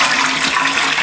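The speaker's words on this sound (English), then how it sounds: "let's pour it in here with some cold water that I already put in." Hot beer wort for an IPA partial mash pours from a pot into cold water, making a loud, close splash and gush of liquid that lasts about a second with no voices.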